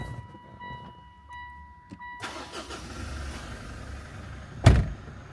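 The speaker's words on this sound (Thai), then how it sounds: "เดี๋ยวไปฟังเสียงเครื่องยนต์กันเลยครับ" After a few soft electronic chimes, the 2.4-litre engine of a 2016 Mitsubishi Pajero Sport 4WD cranks via push-button start and catches, then settles into a steady low idle. A short thump follows near the end.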